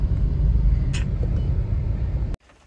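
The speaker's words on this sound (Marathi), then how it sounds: "आम्ही ट्रॅफिकमधून गाडी काढत बसलो." A car drives through city traffic in heavy rain, a steady low engine and road rumble heard from inside the vehicle, loud and continuous until it cuts off abruptly near the end.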